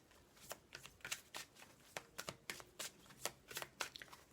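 Tarot cards shuffled and handled close up, a quick run of crisp flicks and riffles in irregular bursts, quiet and with no voice.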